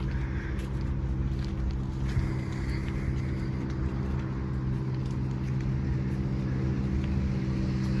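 Inside a car on rough Turkish roads, a steady low engine and road rumble runs throughout, with faint rattles and knocks from the jolting ride.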